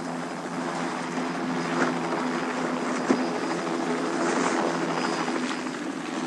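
A helicopter carrying captured bighorn sheep flies with a steady, moderately loud rotor and engine drone, even and continuous, with no voices.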